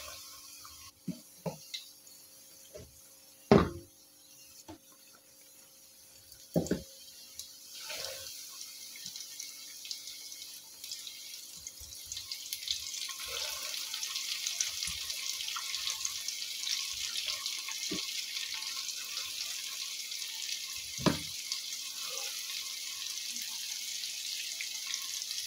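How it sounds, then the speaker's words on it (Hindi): Chicken wings sizzle in hot oil over a medium flame, a few clinks and drips first, then a steady broadband hiss that builds and holds at close range with no talking. "अब हम इसको फ्राई करेंगे। ऑयल को मैंने गरम कर लिया है।"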